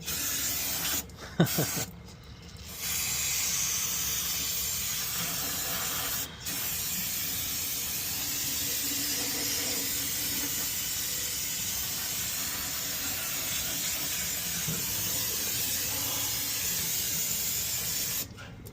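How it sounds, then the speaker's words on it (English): Brake cleaner sprays onto the Dana 60 wheel hub of a Chevy Silverado as a steady, close, loud hiss. It runs almost without a break after a couple of short sputters at the start. "It's never too much brake cleaner."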